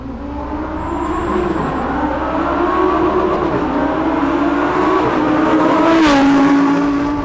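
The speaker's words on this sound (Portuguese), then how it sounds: "E é aspirado, Arthurzinho. O carro é aspirado, mano." A Lamborghini Huracán STO's naturally aspirated engine pulls hard under way, its loud steady drone rising and falling through revs with a sharp surge near the end, heard alone without talk.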